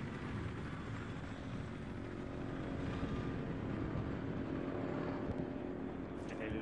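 Viper attack helicopter in Battlefield 3, a continuous low rotor and engine drone that holds steady throughout, with players talking over it.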